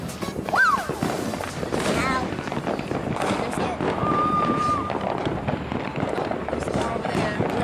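Neighbors' New Year's Eve fireworks crackle and pop continuously at moderate distance, with dense bursts and a brief whistle, while people talk over them throughout.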